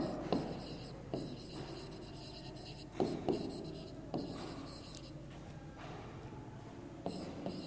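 Pen writing on paper during a class three maths lesson on length measurement, a series of close, quiet scratchy strokes in short bursts with brief pauses between them.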